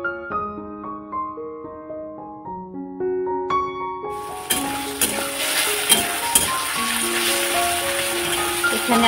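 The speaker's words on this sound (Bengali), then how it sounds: "এখানে আলু ভাজা করে নিচ্ছি ছেলে মেয়ের জন্য সকালবেলা খাওয়ার জন্য" Potatoes frying in a pan for a morning meal, a loud, close, continuous hissing sizzle that bursts in about halfway through after a stretch of tonal voice-like sounds.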